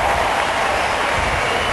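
Serbian fans in the crowd at the U.S. Open cheer and applaud Novak Djokovic, a loud steady roar of clapping and shouting.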